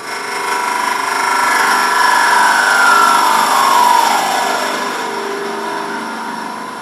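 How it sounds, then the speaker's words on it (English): A wood lathe spins a workpiece while a small bowl gouge trues up its face, giving a steady whirring hum with a shifting scraping tone that swells in the middle and eases off toward the end, with no talking. "True it up a little bit with a small bowl gouge."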